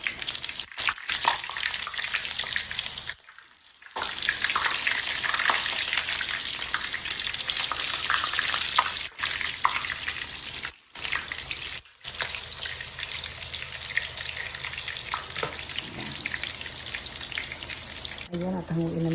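Eggplant frying in hot oil in a pan, a continuous loud crackling sizzle with spattering pops and a few brief gaps.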